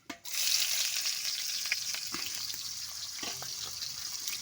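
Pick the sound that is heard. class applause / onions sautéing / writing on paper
onions sautéing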